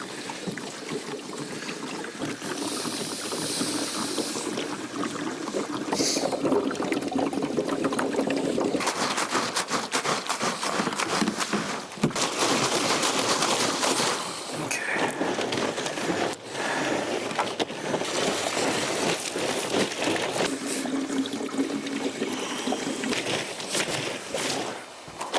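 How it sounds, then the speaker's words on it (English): A gallon of clean water splashes and rushes into containers being rinsed outdoors where brush was burned, a steady broadband pour lasting the whole stretch with surges and brief dips, no talk. "And then we'll just put a gallon of clean water in each one."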